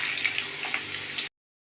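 Cumin seeds hit hot oil in a kadhai while pav bhaji is being made, giving a dense, steady hiss and crackle close by. The sizzle holds for about a second and a quarter, then cuts off abruptly.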